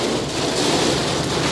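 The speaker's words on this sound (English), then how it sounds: "you can see the rain. It's just really pouring hard." Heavy rain pours down in hurricane-force winds during Hurricane Ian in Florida, a dense, loud, unbroken roar of rain with no voices.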